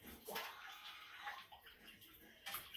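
Wool pieces stirred around in a tub of dye water, sloshing and swirling close by in uneven surges, fairly quiet and with no one talking.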